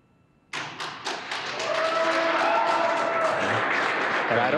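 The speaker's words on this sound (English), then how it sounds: "I don't know if you can hear the applause." Applause breaks out in mission control after the SpaceX Crew-1 Dragon capsule Resilience splashes down, starting with a few sharp claps and swelling into sustained, dense clapping from a room full of people.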